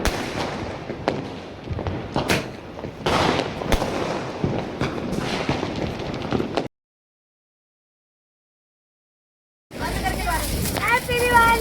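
Large firecrackers bursting during Diwali, a dense run of loud cracks and booms, then a sudden silence before the bangs resume with voices in the background.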